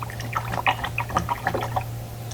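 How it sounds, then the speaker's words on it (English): A paintbrush swishes and splashes in a small container of water, giving quick close burbling dabs over a low steady hum. "Then you're going to rinse your paintbrush off."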